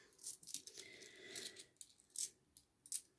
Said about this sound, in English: I'm trying to not make too much noise with the coins.